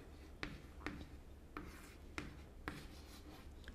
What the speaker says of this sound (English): I'll just write my 300 over here